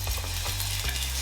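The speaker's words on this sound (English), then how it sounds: "That sizzle is what you want to hear." Steady, loud sizzling of jerk shrimp frying in a hot pan, a continuous crackling hiss with a low hum underneath, no talking.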